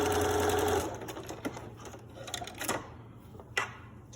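Sewing machine zigzag stitching along the edge of mask fabric over a pipe cleaner, a close, fast mechanical whir with steady rattling needle strokes, running briefly on its own before slowing to a few clicks.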